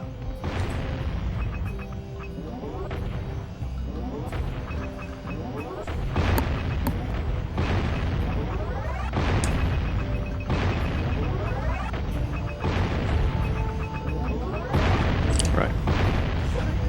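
Cannon fire from the Jak and Daxter video game on a speedrun route, booming blasts repeating over a loud, busy game soundtrack with sweeping tones.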